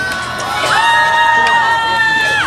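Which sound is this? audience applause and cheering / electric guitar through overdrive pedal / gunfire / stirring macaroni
audience applause and cheering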